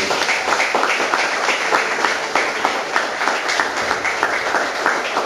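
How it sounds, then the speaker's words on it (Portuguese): A church congregation claps for Jesus during a Portuguese-language sermon: loud, lively applause from many people close by, with rhythmic clap peaks pulsing through a sustained roar for about five seconds. "Palmas para o Senhor Jesus."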